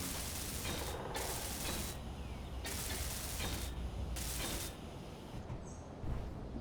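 A welding tool in the game Space Engineers runs on blocks in repeated bursts of harsh, broadband hissing, broken by short quieter gaps. The bursts are steady and close, with no talk.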